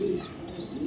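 A large, foreign-breed pigeon gives a low, throaty coo, close by and clear, lasting just under a second.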